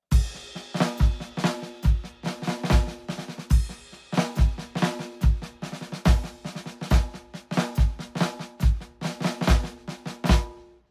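Improvised drum-kit groove built on flams, kick and hi-hat, played close and loud as a busy continuous pattern with varied accents and fills over about ten seconds, no talking.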